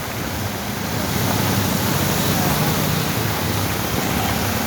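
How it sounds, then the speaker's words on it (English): Heavy rain pours on a flooded city street in Monrovia, making a loud, broad, continuous wash of noise. "Not just easy, just raining."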